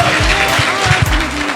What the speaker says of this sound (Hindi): अब आप ताली बजा सकते